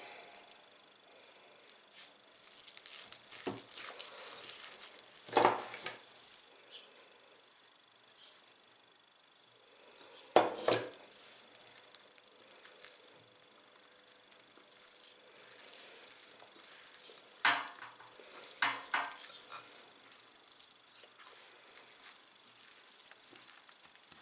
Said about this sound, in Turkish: Artık yoğurmaya başlayacağım.